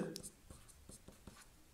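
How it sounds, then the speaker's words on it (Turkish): A pen writing faintly during a math lesson on equations, with soft scratching strokes in a short, quiet run of repeated marks and no voice. "Biraz kalem silik yazıyor"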